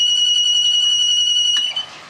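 A piezo alarm on a sump pump control panel sounds during a test, a loud, steady, high-pitched electronic tone that holds, then cuts off near the end with a couple of clicks.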